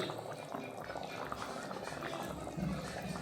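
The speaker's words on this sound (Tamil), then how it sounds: "நல்லா கொதிக்க ஆரம்பிச்சிருச்சு." Mango fish curry with fried sardines bubbles in a pot, a quiet, continuous boiling burble with small popping bubbles heard up close.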